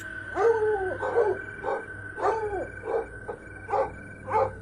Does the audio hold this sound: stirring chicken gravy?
no